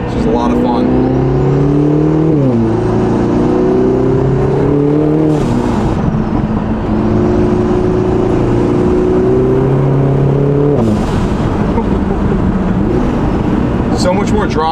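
A Lotus Emira four-cylinder fitted with a Valvetronic Designs valved exhaust revs loudly and close, its engine note climbing and falling in repeated sweeps, with someone talking over it.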